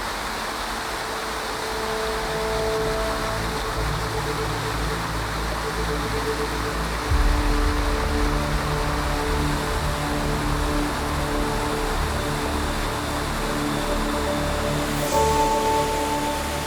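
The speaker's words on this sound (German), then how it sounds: "Ein spektakulärer Ort, an dem gleich 2 Wasserfälle in den Talgrund stürzen." Two waterfalls plunging into a Pyrenees valley near an old stone bridge, a steady broadband roar with no break, close and full, with a slight surge partway through.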